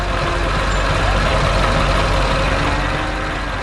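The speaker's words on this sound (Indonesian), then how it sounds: "Berluku sedang mengemudi truk biru di tengah kebun yang penuh warna" A blue truck drives through a colorful farm garden in an animated cartoon, a steady loud engine rumble with broadband road noise running without a break, no speech.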